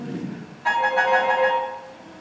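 A telephone rings in a high school chorus stage play, a bright electronic ringtone cutting in abruptly after a low voice and holding as a sustained chiming tone in the room.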